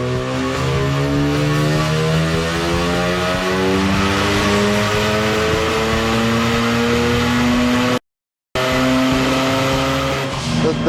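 A turbocharged Datsun 510 with a big misfire revs hard at close range, its engine note rising and falling continuously and loudly, with a brief cut in the sound near the end.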